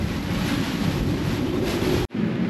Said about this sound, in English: Lots of wind on the last day.